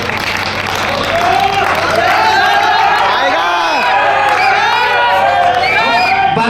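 At a powerlifting competition, an indoor audience claps and cheers continuously, a dense loud roar of applause with whoops and shouting voices mixed throughout.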